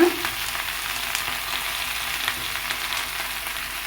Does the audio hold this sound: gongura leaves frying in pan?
yes